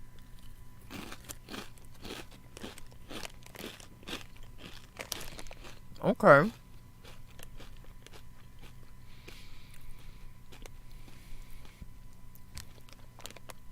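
Loud, crisp crunching of Cheetos and Fritos chips chewed close to the mic, a steady run of bites with one sharp, louder crunch partway through, with a brief spoken word.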